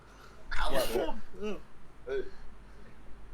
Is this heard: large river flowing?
no